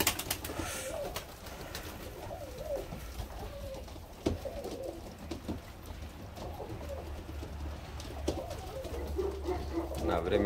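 Ornamental pigeons coo softly in a loft, low rolling calls repeating under someone talking, with occasional wing flutters and knocks.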